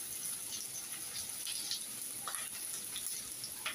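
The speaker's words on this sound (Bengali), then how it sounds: "এই যে একটু হালকা ব্রাউন করে ভেজে নিচ্ছি" Soft, steady sizzling from rohu fish head frying in a pan until lightly browned, with faint crackles and pops scattered over a quiet hiss, heard close and without talking.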